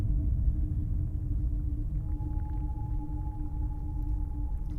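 Eerie ambient preset from a HoriZEN synth, a held drone of steady low tones with sustained higher pitches gliding in, continuous and moderately loud with no other sounds.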